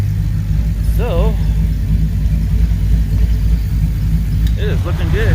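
A C3 Corvette engine idling with a Vintage Air AC kick active, a loud steady low rumble with an even idle that holds constant, while brief whistling or voice-like sounds come through twice above it.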